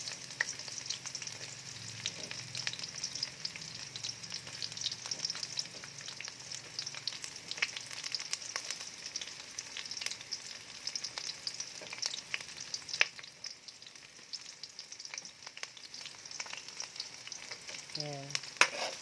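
Onions sautéing in a pan for ginisang munggo, a steady moderate sizzle with scattered crackles and occasional stirring clicks, close and continuous throughout.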